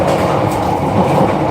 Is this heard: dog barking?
no